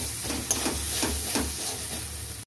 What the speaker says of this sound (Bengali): আমি এটাকে নুন আর হলুদটাকেও পেঁয়াজ, রসুন, আদার সাথে ভালো করে কষিয়ে নেব।